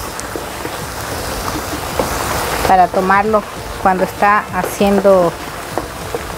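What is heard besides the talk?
rain falling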